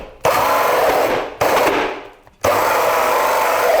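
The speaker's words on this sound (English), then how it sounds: "now I'm just going to drill through" A loud power drill grinds steadily through a wall of plywood and drywall in three bursts, briefly easing off between them, with a harsh rattling texture.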